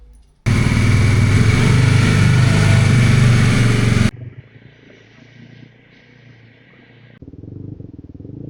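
A motorcycle engine roars loudly and close for several seconds on a highway ride from Bangalore toward Wayanad, then drops abruptly to a much quieter rumble with faint road noise.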